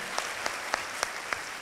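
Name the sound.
audience of students applauding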